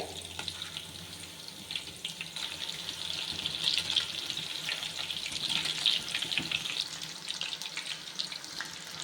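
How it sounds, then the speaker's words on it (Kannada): Chicken kebab pieces coated in egg and masala frying in a pan, giving a steady close sizzle and crackle throughout with no talk. "ಇದು ಫ್ರೈ ಆಗ್ತಾ ಇದೆ"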